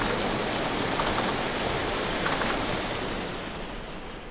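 Hail falling in the survival video game Vintage Story, a steady dense pattering roar that stays loud throughout, with a few sharper impacts near the middle, tapering slightly at the end.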